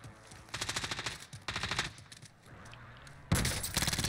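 Rapid bursts of automatic gunfire in Call of Duty Warzone strike the player, three loud volleys with a sharp crack starting the last, over a low game background.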